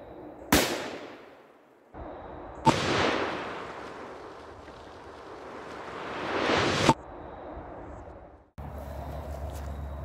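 A Taurus Model 44 revolver firing XTP rounds outdoors, sharp loud reports with long echoing tails, the shots spaced several seconds apart.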